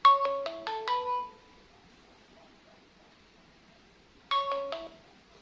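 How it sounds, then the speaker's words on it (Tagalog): Mobile phone ringtone of an incoming call, a bright descending chime phrase of several notes that rings once, pauses in near silence, then starts again, clear and moderately loud with no talking. "nag-ring. Natawag na siya ulit."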